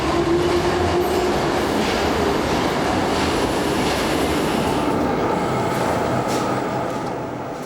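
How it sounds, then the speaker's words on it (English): A subway train in Tokyo runs steadily with a loud, continuous rumble and rail noise, wheels clattering and faintly squealing throughout, easing slightly at the end. "Toro Toyoda gets on his assigned train"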